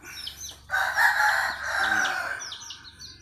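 A young rooster crows once up close, a loud drawn-out call with a ragged ending, while softer chirping and clucking sound before and after.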